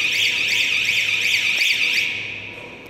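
A metal detector for foil packaging sounds its alarm after picking up a 6.0 stainless steel test piece, giving a loud, shrill electronic warble that pulses steadily before fading out.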